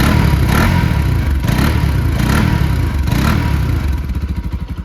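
A Bajaj Pulsar RS200 motorcycle engine runs loudly up close, revved in several surging bursts before settling back to a pulsing, uneven idle.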